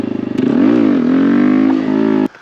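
Honda Grom motorcycle engine during wheelie practice, a loud close revving drone that rises and dips with the throttle for about two seconds, then cuts off abruptly.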